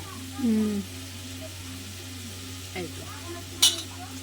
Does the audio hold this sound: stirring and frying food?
yes